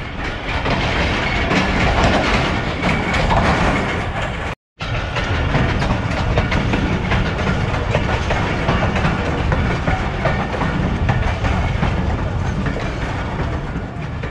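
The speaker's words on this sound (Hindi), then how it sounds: "थल एक्सप्रेस बिल्कुल ऊँट की रफ्तार से चल रही है" The Thal Express runs on its rails at a slow pace, wheels clattering and carriages rumbling loudly and continuously from inside the train, with one brief dropout.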